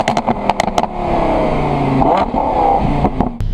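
Close-up, a gray Lamborghini Huracan opens with a few sharp pops and clicks, then its engine revs up into a loud, sustained, rising howl with strong tonal harmonics.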